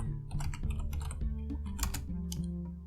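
Typing on a computer keyboard during an Arch Linux installation: a steady run of close keystrokes over a constant low hum, with a few louder key presses toward the end.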